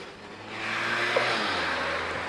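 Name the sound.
red car driving past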